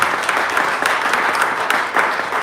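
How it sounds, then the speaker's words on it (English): Steady applause from a political debate audience, dense and even clapping with no voices over it, sustained at moderate loudness throughout. "you've been applauding throughout a little bit"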